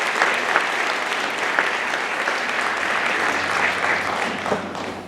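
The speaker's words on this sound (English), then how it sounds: "Humongous round of applause for both of these icons." Sustained audience applause at an annual program held at Yellow Box, a dense, even wash of clapping from a large crowd that stays loud and steady throughout with no speech over it.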